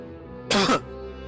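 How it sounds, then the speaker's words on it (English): A single short, harsh cough bursts out close up against a quiet background. "Stop coughing."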